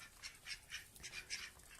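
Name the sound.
ducks pecking at cucumbers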